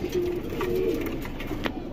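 Pigeons kept for sale coo close by in a low, continuous murmur, with a steady background hum and no talk.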